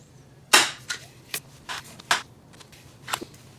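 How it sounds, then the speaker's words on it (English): A Streak air gun being pumped up during a rebuild, giving a series of sharp, close pumping strokes at an uneven rhythm, about six or seven distinct clacks with quiet gaps and no talking. "pump it up 8 times, fire it, see if it dumps all the air."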